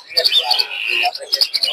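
Lutino budgies at a busy bird market in Mirpur, quick bright chirps and tweets bursting in a clustered run, close and fairly loud with a brief pause in the middle.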